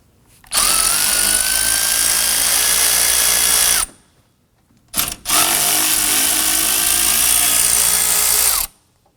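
A powered ratchet with a 10mm socket loosens condenser bolts on a 2015-2024 Nissan Murano 3.5L V6. It gives two loud, close whirring runs of several seconds each, split by a brief pause with a short blip.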